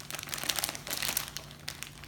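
Soft plastic packaging around a fruit-shaped super-soft squishy toy crinkles as it is handled and opened, with quiet, continuous rustling and a few sharper crackles close to the microphone.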